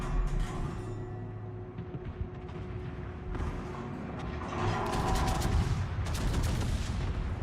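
Naval guns firing from warships in World of Warships Legends, with rapid mechanical clatter and repeated bursts of gunfire over a constant low engine drone, building louder toward the end.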